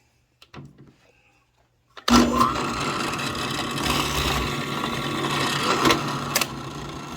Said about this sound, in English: we're just gonna drill a hole in there and then just cut that out.